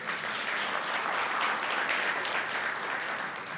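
A church congregation claps in steady, dense applause, a continuous even wash of many hands from start to finish.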